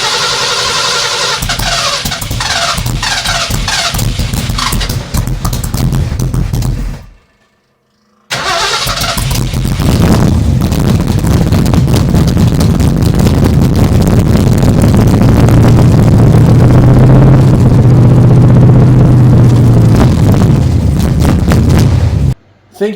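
A Big Block 460 V8 engine cranked and fired for its first start after a swap, running rough and loud with harsh sputtering, a brief cutout, then a long sustained ragged roar up close before cutting off.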